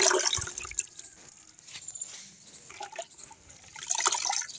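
Fresh leafy greens (notey shak) are washed by hand in water, with splashing, dripping and trickling, squishy handling of wet leaves, moderately loud and close throughout.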